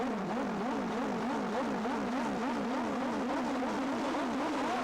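Two turbo-boosted drag racing motorcycles at the start line of a 1987 drag bike meet, engines revving in a rapid wavering drone that rises and falls steadily, loud and sustained with no talk.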